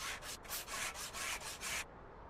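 Hand sanding a car body with sandpaper in a car dealer simulator game: six brisk back-and-forth rasping strokes in an even rhythm, close and clear, then stopping, with no speech.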